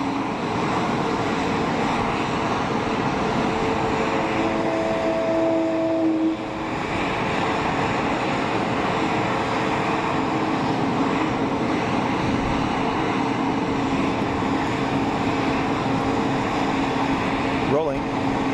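An Airbus A220 jet at Geneva Airport spools up for its takeoff roll, a steady heavy roar with the distinctive warbling, groaning whine rising and wavering above it, sustained and fairly close.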